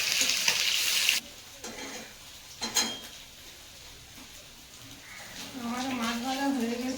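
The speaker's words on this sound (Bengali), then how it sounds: "আমার মাছ ভাজা হয়ে গেছে" Fish sizzles loudly in a pan at first, then cuts off abruptly, leaving a quieter stretch with clatter and a voice talking over faint kitchen sounds.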